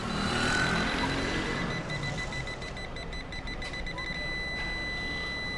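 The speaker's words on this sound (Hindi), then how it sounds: "इसकी जो बीप है वो ज़्यादा तेज़ हमें सुनाई दे रही है।" A UNI-T UT89XD multimeter alarm sounds after the mains power is switched on, with a train of quick, regular beeps under a loud steady hum and background noise.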